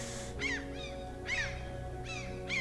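Cartoon seagull cries ring out in three repeated descending squawks at an even pace, moderately loud over a steady background hum, with no speech.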